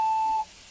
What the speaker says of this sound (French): Après le bip, veuillez enregistrer votre